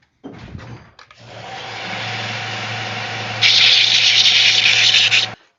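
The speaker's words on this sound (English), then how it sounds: "I'm going to go use my belt sander instead" A belt sander grinds steel edges clean for an outdoor griddle build, a steady broadband whir with a low motor hum that brightens and grows louder midway, running continuously near the mic for about five seconds.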